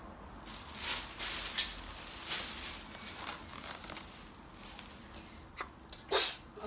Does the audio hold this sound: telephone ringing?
no